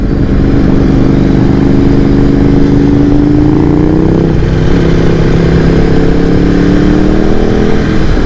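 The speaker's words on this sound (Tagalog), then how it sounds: "Grabe, lakas ng power ng big bike." A Ducati big bike cruises at speed on a highway, its engine a loud, steady drone with a slight rise and fall in pitch under constant wind roar.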